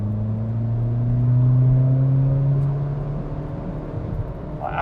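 A tuned Skoda Fabia vRS with a 1.9 PD TDI diesel engine accelerates away, its engine note droning and climbing steadily in pitch, heard from inside the car before the tone eases off.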